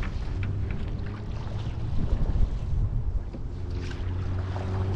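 Wind buffets the microphone on open water while paddling a new Esquif canoe; a steady, rough rushing roar with a low rumble underneath continues throughout, and no one speaks.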